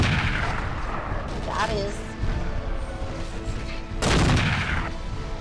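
Dual shotguns blasting in the mech combat game Mechwarrior 4, heavy booming bursts landing in a couple of loud clusters over steady game rumble, with someone talking over the action.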